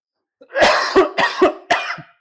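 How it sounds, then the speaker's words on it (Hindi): Four harsh coughs in quick succession, close and loud, each a short rough burst. "खांसियां आ जाती है"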